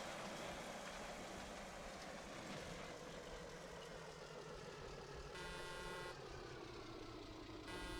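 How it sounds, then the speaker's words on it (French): A car horn blares in a sustained tonal honk over steady traffic and engine rumble, sounding briefly and then returning after a short break, with no voices. "Ah bravo, ça klaxonne."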